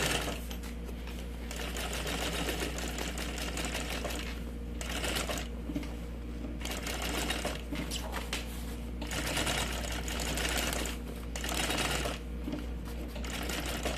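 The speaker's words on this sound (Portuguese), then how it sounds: "Eu tô refazendo aqui a costura porque tinha terminado a linha da parte de baixo. Mas é só ir costurando até o final." A sewing machine stitches the bottom seam of a double cosmetic bag in a steady, close, rapid mechanical whir with a low hum underneath. It pauses briefly a few times and carries no talking.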